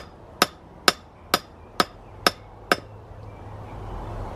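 A hammer striking layered metal while forging an arrowhead, six evenly spaced ringing blows at a steady rhythm, close and loud, followed by a low rising hum.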